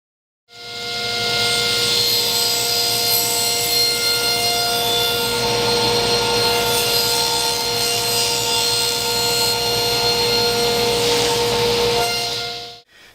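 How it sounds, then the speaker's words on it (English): A power drill boring pilot holes into wood for a table saw sled runs as one steady, loud, close whine with a strong tonal hum, starting abruptly and holding nearly constant for about twelve seconds before cutting off, with no talk. "So I'm going to run pilot drill for all these holes."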